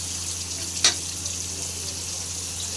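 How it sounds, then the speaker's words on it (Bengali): Fish frying in a pan while a spice masala for shrimp cooks down alongside, giving a steady close sizzle throughout with a brief sharper crackle near the start. "এই তো মাছ ভাজাটা বসাই দিচ্ছি, আর এদিকে চিংড়ি মাছের জন্য আমি মশলাটা কষাইতেছি ভালো করে"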